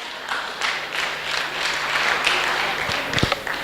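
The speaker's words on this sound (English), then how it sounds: "Clap for Jesus, please." Church audience applauding during a testimony, a dense, steady wash of many hands clapping close by, with a couple of sharper claps standing out near the end.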